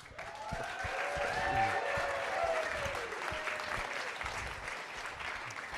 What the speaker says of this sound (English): why don't we give all of the founders who pitched a round of applause?